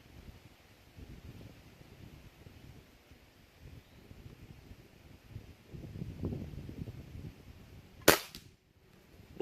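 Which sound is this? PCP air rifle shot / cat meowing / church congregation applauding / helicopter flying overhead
PCP air rifle shot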